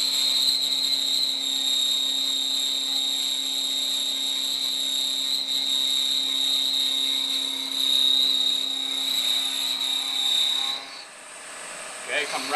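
A manual milling machine takes a cutting pass across a metal block being squared, producing a steady, loud whine with a high tonal edge and low hum that runs evenly for about eleven seconds before dropping away.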